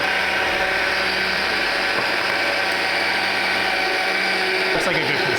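A blender purees a refreshing drink with a loud, continuous whirring roar that holds steady throughout.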